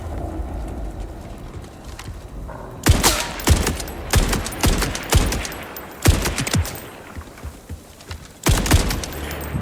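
Bursts of gunfire from a weapon in the video game Borderlands 4, loud rapid volleys in several separate strings with short pauses between, close and dominant with no talking.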